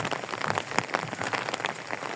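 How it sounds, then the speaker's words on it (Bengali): Steady rain falls on a rural village, a dense patter of drops striking the ground and nearby surfaces, close and continuous with no voices. "খালি পায়ে বৃষ্টিটা উপভোগ করতেছি আজকের।"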